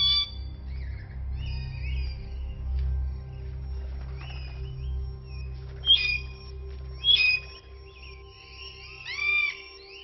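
Seram cockatoos calling in the wild on Seram island, Indonesia, with harsh, scattered screeches and squawks rising at intervals over a low, steady background hum.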